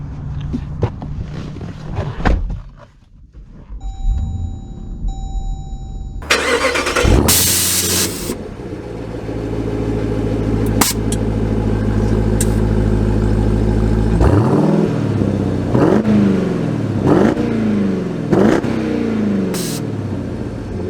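A modified 800-horsepower Jeep Grand Cherokee Trackhawk cranks and fires up with a loud roar, settles into a rumbling idle, then revs in several rising bursts, heard close and alone.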